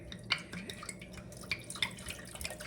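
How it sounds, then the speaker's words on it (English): Wine is poured into a pot for mulled wine, heard as faint, quiet trickling and dripping with small splashes. "pouring the wine into the pot here"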